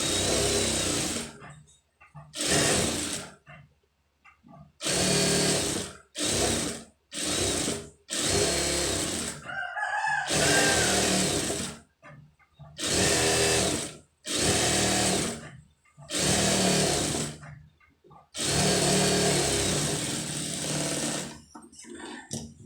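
Sewing machine stitching a lined blouse runs in repeated loud, close bursts of rapid needle hammering, each lasting one to two seconds, separated by short silent pauses.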